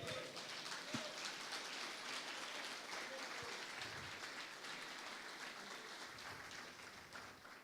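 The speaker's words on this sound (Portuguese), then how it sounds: "Aplauda ao Senhor." A church congregation at a Christmas Sunday service claps in a faint, distant, continuous patter, with a few scattered louder taps over the steady wash of hands.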